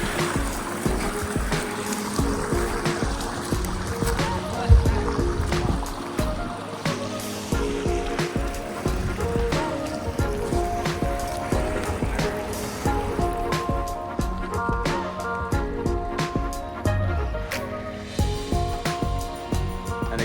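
Small, gentle waterfalls spill into a garden pond lined with massive rocks, making a continuous, moderately close splashing and trickling that stays even throughout with scattered brief drips and splashes.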